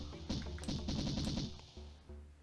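Rapid automatic gunfire from the video game Syndicate, bursts of quick repeated shots over a steady low electronic game drone, fairly quiet and with no talking.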